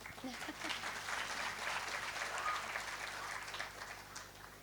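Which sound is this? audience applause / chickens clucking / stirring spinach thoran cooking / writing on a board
audience applause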